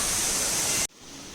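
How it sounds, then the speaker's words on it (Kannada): Rushing water at Ermayi Falls near Ujire, a dense steady hiss of the waterfall that suddenly drops off, leaving a quieter, fainter wash of water. "ನೀರಿನ ಶಬ್ದ ಕೇಳೋದಕ್ಕೆ ಒಂಥರ ಪೀಸ್ಫುಲ್ ಆಗಿತ್ತು"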